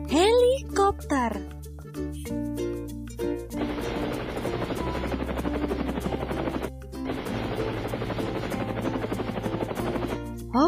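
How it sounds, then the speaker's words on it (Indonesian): A helicopter's rotor chops rapidly in two long, loud bursts separated by a short gap, after a few brief unrelated sounds at the start. "Helikopter."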